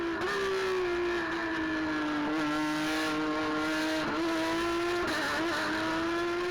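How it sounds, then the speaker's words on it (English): A Porsche Carrera Cup race car's engine at the Oschersleben circuit, a loud sustained high-revving whine that holds a steady pitch with brief dips at gear changes, heard close and alone. "It's absolutely brilliant, not only to see the images, but also to hear the noise from the Joey Mawson car"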